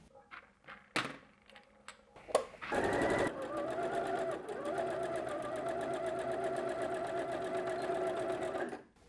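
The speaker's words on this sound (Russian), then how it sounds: "прокладываем строчку в круговую" A domestic sewing machine stitching a circular seam on a children's long-sleeve top: a few clicks and thumps as the fabric is set, then a steady, fast mechanical whirr running evenly for several seconds before stopping, close and fairly loud.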